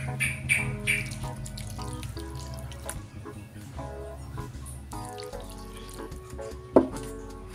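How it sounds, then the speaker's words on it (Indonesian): Water pours steadily into a homemade multipurpose soap paste mixture, a continuous splashing trickle with occasional drips and clinks, while faint birdsong chirps in the background. "Sekarang kita tuangkan separuhnya dulu,"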